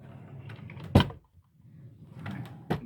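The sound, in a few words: drawer being opened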